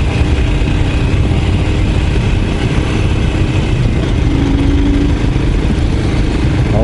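A Royal Enfield Scram 411 motorcycle engine running steadily on an off-road ride, a constant loud close drone with wind noise and no letup.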